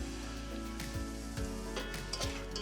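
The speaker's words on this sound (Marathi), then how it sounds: "हा रवा आपण तुपामध्ये भाजून घेणार" Semolina roasting in ghee in a pan for upma, a soft, continuous sizzle with a few faint scrapes and light clicks from stirring, steady and close with no voices.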